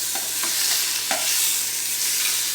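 Pork sizzles steadily in a hot Instant Pot pressure cooker, a loud, constant hiss with a few soft clinks.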